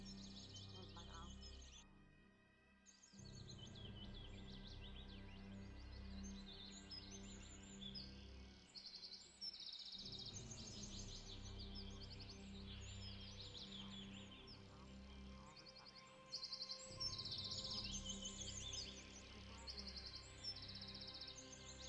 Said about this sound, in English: these birds are loud